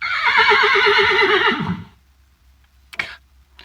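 A horse neigh sound effect played after a horse joke: one loud, long whinny that shakes and falls away, then silence and a brief clop-like knock.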